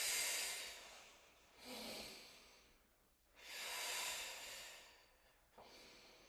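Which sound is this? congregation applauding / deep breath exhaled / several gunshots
deep breath exhaled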